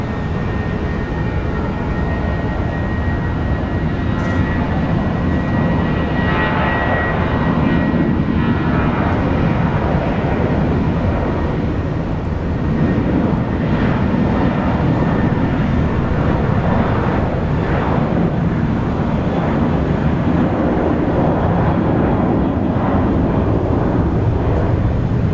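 A United Airlines heavy jet landing at Brisbane Airport, its engines a steady, loud broadband roar that swells slightly midway and holds for the whole stretch, with no voices over it.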